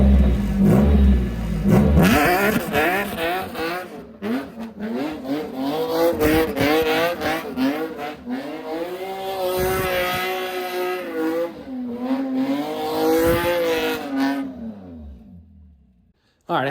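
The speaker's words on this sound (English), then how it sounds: "I had to go outside and do some donuts just to, you know, obviously make sure the car's still good." A BMW E36 race car does donuts, its engine revving up and down in long repeated sweeps with tire squeal, loud and close, before cutting off abruptly near the end.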